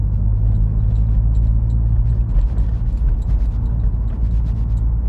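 Inside a SEAT Leon Cupra Mk2 on Eibach Sportline lowering springs, a steady low road rumble is broken by soft thumps as the car rolls over bumps and imperfections in the road.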